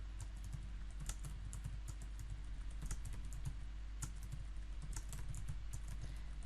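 Typing on a computer keyboard, a quick irregular run of light key clicks, close and steady, over a low constant hum.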